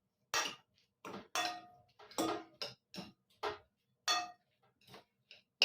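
A utensil clinks and scrapes against a pot as food is stirred, with a dozen sharp, close taps and scrapes arriving in an uneven rhythm, separated by near-silent gaps.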